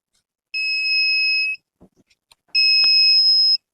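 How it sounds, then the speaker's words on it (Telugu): Active buzzer wired to an Arduino sounding two loud, steady one-second tones separated by a short gap with faint clicks, close and alone with no talk. "ఇదే యాక్టివ్ బజర్."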